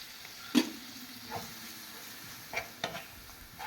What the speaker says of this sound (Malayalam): എന്നിട്ട് നന്നായിട്ടൊന്ന് ഇളക്കി കൊടുക്കുക.